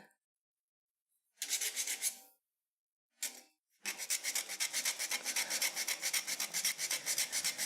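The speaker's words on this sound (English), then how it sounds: "I'm just sanding." Sanding a wooden spoon in short bursts, then a steady run of rhythmic back-and-forth rasping strokes, close and clear with no talking.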